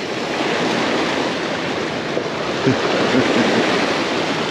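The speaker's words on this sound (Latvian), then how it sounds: "Daugava mēdz viļņoties, kad tie kuģi sārāk daudz braukā" Waves on the Daugava river stirred up by passing ships, a steady broadband wash of water and wind buffeting close to the microphone, continuous and fairly loud with no talk.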